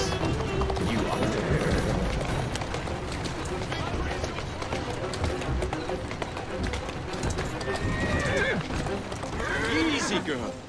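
Horse hooves pound in a fast gallop with a loud neigh breaking through, busy and continuous, with voices talking over the commotion, in the video game Assassin's Creed Syndicate.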